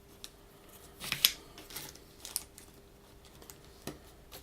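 Hobby clippers snip a plastic part from a model kit sprue, a couple of sharp close clicks near the middle followed by smaller handling taps, with no voices.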